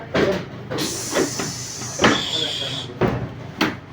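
A wooden drawer slides open with scraping, knocking handling sounds, close and moderately loud, while people talk over it in a room where a snake was reportedly found.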